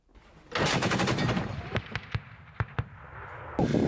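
Dense burst of rapid automatic gunfire followed by several sharp, separate shots, loud and close, ending with another quick volley.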